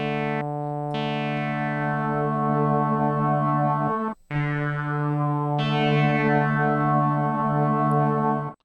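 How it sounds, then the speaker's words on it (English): Stereo chorus plugin using cross-fading delays, applied to a sustained, harmonically rich synth-like tone that plays loudly and continuously, with a brief dropout midway and a brighter section near the end; no talking. "This stereo chorus, it's quite different to the conventional ones because it uses this cross-fading of delays."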